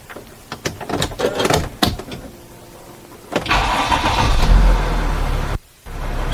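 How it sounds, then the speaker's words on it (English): A series of clicks and clunks, then a Mercedes Sprinter van engine cranks and starts, settling into a steady low idle that drops off near the end. "So as you can hear, the engine is running"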